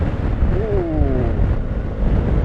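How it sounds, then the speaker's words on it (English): Wind gusts roar and buffet around a rider on a BMW R1250GS during a coast-to-coast tour, a steady, loud broadband rush with low rumble and faint tonal engine hum underneath. "the wind took me then"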